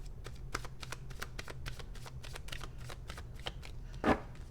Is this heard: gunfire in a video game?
no